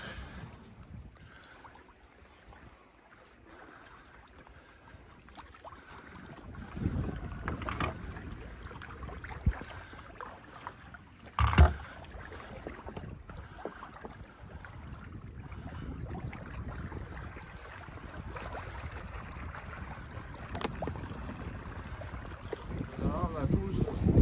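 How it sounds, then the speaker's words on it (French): Wind of about 12 knots buffets the microphone over a low rush of water against a moving sailboat off Greece, gusting louder at times, with a sharp knock partway through. "Là, on a 12 nœuds de vent."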